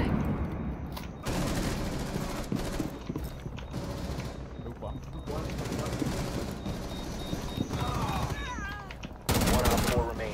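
Shotgun blasts and other gunfire in Rainbow Six Siege, sharp loud bursts in irregular clusters amid busy in-game effects, with a player's voice talking over the action.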